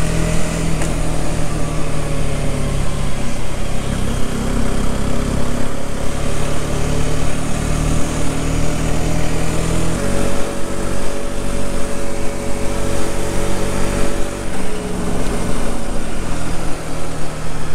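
A Rieju Century motorcycle engine runs continuously while riding, a steady buzzing drone whose pitch shifts as gears and speed change, loud and close throughout with no talking.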